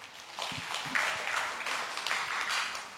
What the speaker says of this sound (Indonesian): Tepuk tangan untuk distrik 10.